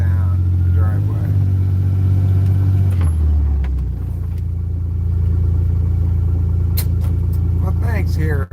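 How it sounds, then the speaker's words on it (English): A small car engine idles and pulls as the car reverses slowly down a driveway, a low steady hum that shifts pitch partway through, with a few faint clicks over it. "He says he likes the sound of the little car's engine."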